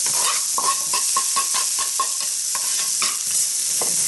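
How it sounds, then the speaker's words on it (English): Onion fries in a hot wok with a bright, constant sizzle and a regular tapping of the utensil against the metal, close-up and steady, no voices. "Fry off your onion."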